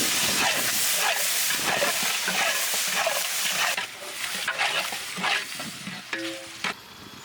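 Tomato, chili powder and Kitchen King masala frying in a pan for chicken vadi biryani, a steady close sizzle and hiss with stirring scrapes that eases off partway through.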